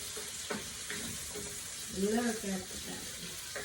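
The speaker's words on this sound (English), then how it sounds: "Okay, we saute them." Ingredients for ginisang monggo sizzle and fry in a pan, a soft continuous hiss with a few stirring knocks, heard quietly beneath a voice talking.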